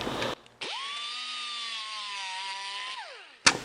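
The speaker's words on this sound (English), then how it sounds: "grind that a little more." A power grinder works a sheet metal patch panel, spinning up to a steady, loud whine that holds for about two and a half seconds and then winds down.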